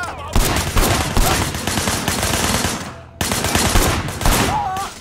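Rapid automatic gunfire in the video game Sleeping Dogs, loud bursts of shots crackling densely for several seconds with a brief pause before firing resumes.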